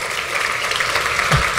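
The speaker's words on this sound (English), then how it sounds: "Let us all appreciate the great applause." Lecture-hall audience applauding after a discourse: dense clapping from many hands, loud and sustained throughout the short stretch, no voices.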